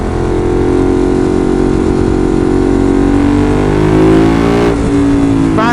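A Ducati 916 motorcycle engine revving hard toward the red line, a loud, close, rising growl that climbs steadily in pitch before easing off near the end.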